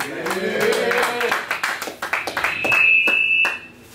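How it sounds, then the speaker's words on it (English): A crowd at a rap battle claps in loose rhythm, the sharp claps running close and loud under a person talking, with a thin high electronic tone entering partway through. "Clap it up."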